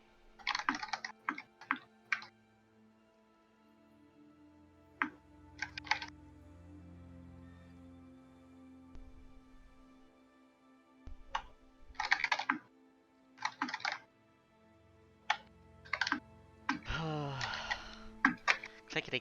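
Keys clack on a computer keyboard in quick bursts between pauses, fairly close and faint, while voices chat in the background during a tabletop game session.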